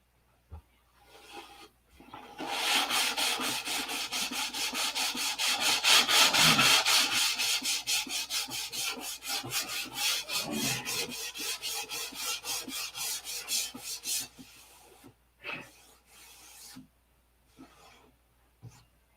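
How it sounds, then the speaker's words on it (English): Rapid back-and-forth hand sanding of a P-47 model airplane rasps steadily for about twelve seconds, close and fairly loud, then slows into a few scattered strokes. "I'll give her one complete sanding."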